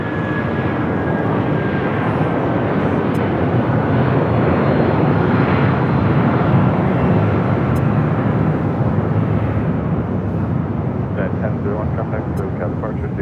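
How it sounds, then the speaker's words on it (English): A United Boeing 757 at LAX roars steadily and loudly throughout, a broad sustained jet rumble, with voices briefly audible under it near the end. "What was that? United 757."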